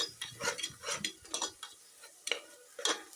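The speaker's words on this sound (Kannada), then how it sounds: "ಉಪ್ಪು ಹಾಕಿ ಇದನ್ನು ಚೆನ್ನಾಗಿ ಮಿಕ್ಸ್ ಮಾಡಿ" Salt being stirred into a vegetable kurma in a pan, with repeated soft scraping strokes of a spoon against the pan and a light sizzle underneath, close and fairly quiet.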